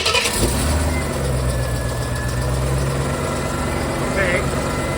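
A car engine cranks and catches after an oil filter replacement, following the loss of all its oil: a quick start burst, then a steady, close idle hum for the rest of the clip.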